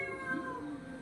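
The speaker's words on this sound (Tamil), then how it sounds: "மீன் பாருமாமா, பூனை வருதுமா மீன் கிட்ட." A cat meows in a long, drawn-out, close cry near fish being cooked in a pan for kozhambu, with a steady background hum.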